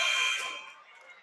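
A high school basketball game-end buzzer sounds at a WPIAL game between Thomas Jefferson and Montour, a loud harsh electronic tone that holds briefly and then fades off.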